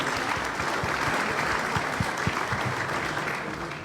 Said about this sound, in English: give a big round of applause to